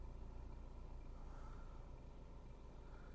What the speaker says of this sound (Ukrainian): Двигун працює рівненько, помилок немає, оберти не плавають.